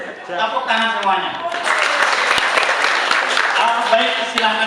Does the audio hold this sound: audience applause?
yes